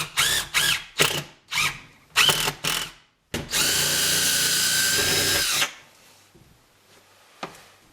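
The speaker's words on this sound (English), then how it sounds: "I had to counterbore the holes just to get the screws deep enough." A power drill counterbores screw holes in a wall, with several short bursts of drilling followed by one longer sustained run, loud and close, then a few faint clicks as it stops.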